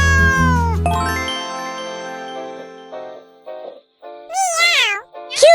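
A cat meows several times in a row, clear and close, with wavering pitch, after a bright chime-like jingle opens the scene.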